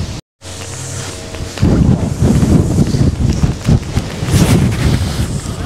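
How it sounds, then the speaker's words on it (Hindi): Strong wind blows near a castle in Wales, in Snowdonia National Park, buffeting the microphone with a loud, continuous, gusting roar after a brief moment of silence at the start. "तेज हवा।"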